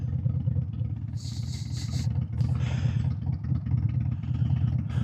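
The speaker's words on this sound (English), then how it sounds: "Man, you need to put some oil in your car." A car engine idles unevenly after a cold start, a continuous low clattering rumble up close, with a few brief higher-pitched noises in the background.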